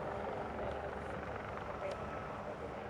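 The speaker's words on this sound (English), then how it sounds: "the 787 Dreamliner now on final approach to 360 at Whitfield" A Boeing 787 Dreamliner airliner on final approach to land at EAA AirVenture makes a steady, distant broadband engine roar and whine, constant throughout, with faint crowd noise and a voice in the background.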